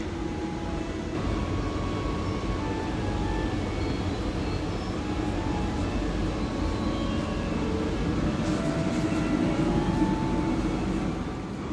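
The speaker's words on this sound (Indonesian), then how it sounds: "ini rangkaian kereta api Kuto Jaya Selatan tambahan yang aku naiki dengan jenis rangkaian ekonomi Kemenhub atau long seat 80 tempat duduk" Steady rumble and rattle inside a Kutojaya Selatan economy-class train carriage with long bench seating while riding, a continuous loud wash of wheel and car noise with faint squeals throughout.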